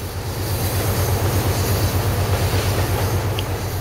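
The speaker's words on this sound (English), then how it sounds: "Now we follow the train from Twello to the non-existing fishing harbor." Train running in the Trainz railway simulator, a steady loud rumble of wheels and engine drone with faint clicking, continuous with no talk.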